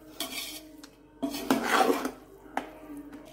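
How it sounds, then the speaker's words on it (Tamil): Metal spoon scraping and clattering in a pot as mutton biryani masala is stirred, a few short close bursts of scraping with brief pauses between. "அதை வந்து நல்லா கிளறி விட்டுக்கோங்க"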